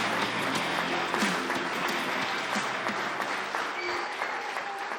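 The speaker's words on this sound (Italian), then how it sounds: "quindi un grossissimo applauso" A studio audience claps loudly for the Entella Under 13 youth football team on a sports program, a dense continuous applause over a faint musical backdrop.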